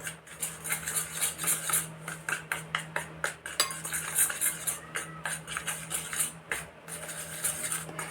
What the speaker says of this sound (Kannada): ಸೊ ಇದನ್ನು ಹಾಕಿ ಈ ಥರ ಚೆನ್ನಾಗಿ ಮಿಕ್ಸ್ ಮಾಡೋಣ